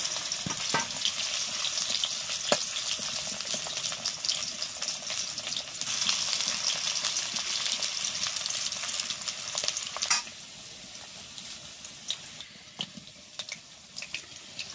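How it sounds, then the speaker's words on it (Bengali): Potatoes and sweet potatoes fry together in hot oil with a steady bright sizzle and scattered crackles, easing to a quieter sizzle near the end. "আলুটা দিয়ে দিচ্ছি তেলের মধ্যে, রাঙালুটাও দিয়ে দিচ্ছি,"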